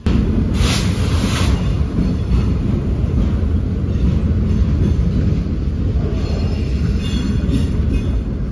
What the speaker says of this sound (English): here we see the last bit of the train